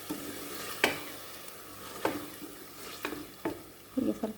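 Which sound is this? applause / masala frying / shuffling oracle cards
masala frying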